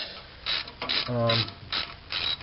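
A ratcheting tool clicks in short bursts while a hose clamp is fitted and tightened on a pipe of a 1987 Toyota 4Runner with a 22RE engine, close and clear with no talk.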